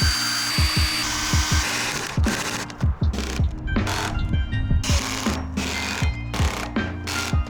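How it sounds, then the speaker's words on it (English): Power drill running in repeated short bursts while driving screws into wood during a MaxxAir roof fan install on a van, with whirring and ratcheting clicks, close and loud throughout. "I'm going to start drilling the little holes now and putting the screws into the wood below"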